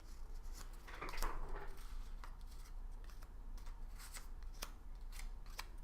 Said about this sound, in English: I've got some cards I'm going to put out